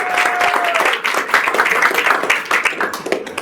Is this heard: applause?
yes